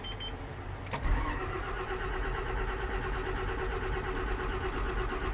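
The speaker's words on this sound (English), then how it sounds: "We turn on my bus." A bus engine cranks and starts with a brief transient near one second, then settles into a steady, fairly loud low rumbling idle that continues without talk.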